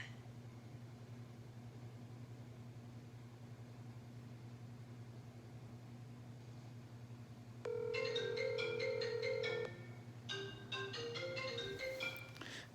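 A phone's outgoing call ringback tone after a call placed by Siri voice command, a clear repeated tonal pattern starting partway through over a low steady hum.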